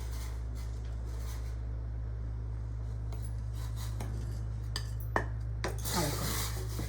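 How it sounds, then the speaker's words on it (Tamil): Roti halwa is stirred in a pan over a low flame, with soft rubbing and scraping strokes of a spoon against the metal over a steady low hum and an occasional light clink. "இதை கிண்டுறது தாங்க, கட்டி இல்லாமல் நம்ம கிண்டணும்"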